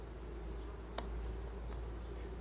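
Honeybees buzzing around hive frames in July after honey extraction, a faint steady hum close by with a couple of brief clicks.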